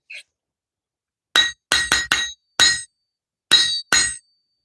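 Seven sharp metallic rings from hammer blows on an anvil, bright and close, struck in an uneven rhythm of quick pairs and single hits, each strike decaying in a short clear ring against silence.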